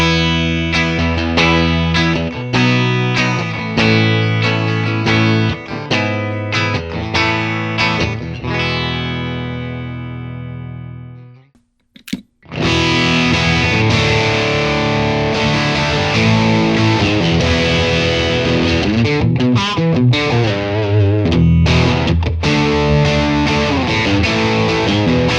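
Electric guitar through a Boss DS1 distortion pedal into a Deluxe Reverb amp, loud, thick distorted riffs and chords, a ringing passage that fades to near silence, then a sharp hit and dense driven playing again.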